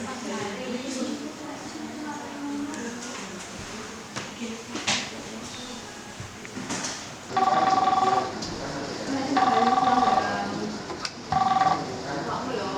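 A telephone in an office rings out while dialing the accountant, repeated electronic ringback tones sounding in three spaced bursts after a stretch of quiet room noise and movement.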